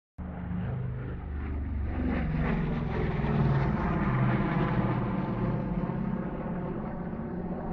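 A Douglas B-26 propeller bomber of the Korean War era drones steadily, its engine hum rising gently toward the middle and then easing a little, heard alone without voices.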